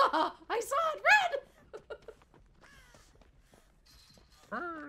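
A crow caws a few times in the Dead by Daylight horror game, the harsh calls near and loud among people's chuckles and speech.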